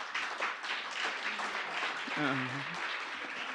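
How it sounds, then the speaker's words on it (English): Audience applause at the NYC School of Data 2018 event, a moderate wash of clapping with voices and cheering calls rising through it partway. "Yes, please clap loud."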